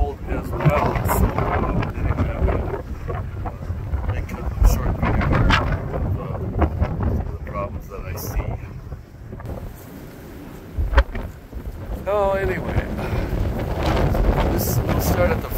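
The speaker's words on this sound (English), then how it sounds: "It's windier than all heck today, and cold as well." Strong, cold wind blows outdoors at a county fairgrounds beside an old log cabin, buffeting the microphone with loud, continuous low rumble and gusts; someone talks intermittently over it.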